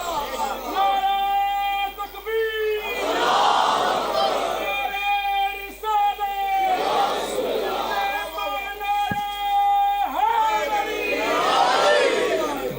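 A crowd at a 16 Rajab religious gathering in Qazi Chak, Gujrat, chants a religious slogan in loud, rhythmic bursts of massed voices, repeating roughly every two to three seconds and filling the whole clip.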